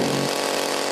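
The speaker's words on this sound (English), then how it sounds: "A grizzly bear with a chainsaw." A chainsaw engine running at full throttle, a loud, steady, buzzing drone heard close up and without any speech, with the lower tone dropping away partway through.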